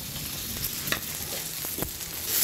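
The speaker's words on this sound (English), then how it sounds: "the flavor when you saute the onion and the bacon together" Bacon and onion sauteing together in a pan, a steady close sizzle with intermittent scraping stirs and light spatter, no voices over it.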